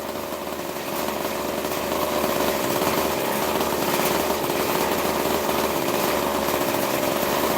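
A 26cc two-stroke engine runs steadily close by, a loud, buzzing drone that rises slightly in the first second and then holds a constant raspy pitch with no talking.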